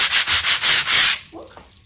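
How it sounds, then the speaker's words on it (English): Rough edges of wood paneling being sanded by hand, five rhythmic back-and-forth rasping strokes close up, then the scraping stops and faint room sound follows. "we're just sanding off these rough edges"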